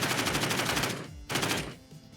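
A minigun in the Tac Zero tactical mod fires two rapid, loud, buzzing bursts, the second shorter, with a brief gap between them.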